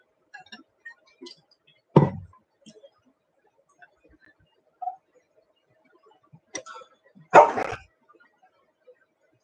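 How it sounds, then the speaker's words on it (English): Dogs indoors snapping and growling at each other, two sharp loud bark-like outbursts with a few faint scattered whimpers and rustles between them in an otherwise quiet room. "So if you hear growling in the background, that's what that's all about."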